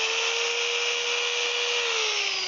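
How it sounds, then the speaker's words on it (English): A power sander runs against a wooden spatula with 80 grit sandpaper, a loud steady whine with a constant abrasive hiss close to the microphone and no talking. "I'm not going to do too much of that because that's very loud and you've all seen sanding before"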